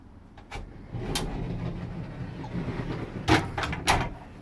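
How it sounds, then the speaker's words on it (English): A sliding privacy door in the rear master bedroom of a 2018 Thor Four Winds 30D RV is pushed shut, giving a soft rolling slide with a few sharp clacks and knocks toward the end, close and fairly quiet. "These are sliding doors for privacy in the back master. You just push this down, and it will close."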